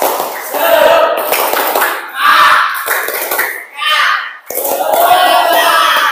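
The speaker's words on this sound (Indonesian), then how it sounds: "coba tepuk semangatnya seperti apa?" A class of students doing the rhythmic tepuk semangat spirit clap in an Indonesian lesson, loud close bursts of patterned clapping mixed with children's chanting voices, broken by short pauses.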